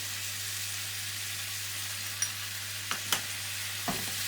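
Garlic and ginger paste being stirred into potatoes browning in a pan for Bombay potatoes, under a steady loud sizzle with a low electrical hum and a few brief utensil scrapes near the end.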